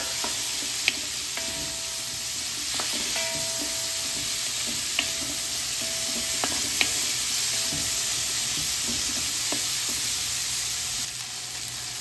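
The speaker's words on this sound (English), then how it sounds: "We start with the peppers. We saute for 3 minutes, medium fire." Peppers sauté in a pan over medium heat for sausage pasta, with a steady bright sizzle running throughout and occasional light scrapes and taps as they are stirred.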